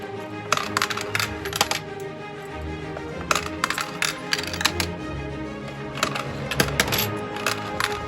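Coins drop and clatter through a 3D-printed coin sorter taped at the front, sharp metallic clinks arriving in quick bursts with pauses between, close and fairly loud.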